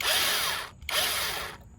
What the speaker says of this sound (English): It stopped drilling.